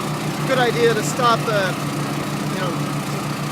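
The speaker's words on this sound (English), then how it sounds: "You're just listening to engine speed." Engine of an Orec tracked flail mower running at a steady idle, a continuous low hum through the whole stretch, with someone talking over it early on.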